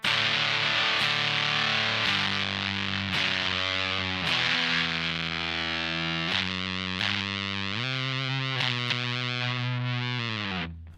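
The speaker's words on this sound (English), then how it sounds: "It's got a little bit more shape to it, and therefore sounds a bit of like an older sounding fuzz pedal." Electric guitar through a vintage-style fuzz pedal, a series of loud distorted chords and single notes struck one after another with thick sustained harmonics, the last ringing out and cutting off.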